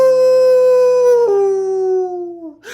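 A long, loud werewolf-style howl holds a steady wavering tone, then slides lower and fades away alone, with no other sounds beneath it.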